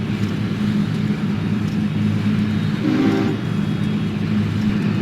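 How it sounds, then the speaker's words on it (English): A brief train whistle sounds once near a harbor, rising out of a steady low rumble of rolling rail traffic. "I didn't recognize the whistle."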